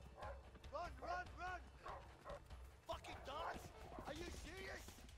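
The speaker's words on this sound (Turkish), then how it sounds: "Köpeklerle geliyorlar bak." Dogs barking in the video game A Way Out as pursuers close in with them, several sharp, mid-loud barks in uneven bursts, mixed with voices talking over the game sound.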